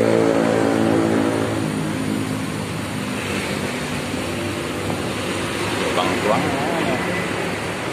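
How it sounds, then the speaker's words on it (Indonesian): Medan Jaya intercity bus engine droning and revving as it pulls away from the departure point, loud and close. People talk over the engine throughout. "Bus Medan Jaya segera diberangkat ke Medan"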